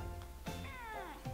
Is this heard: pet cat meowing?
yes